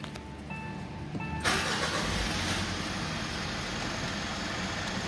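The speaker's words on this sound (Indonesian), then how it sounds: "Oke, kalau itu saya akan nyalakan mesin." A Mitsubishi Pajero Sport Dakar 2021 engine starts: a short whirring crank with dashboard beeps, then the engine catches and settles into a steady, fairly quiet idle heard from inside the cabin.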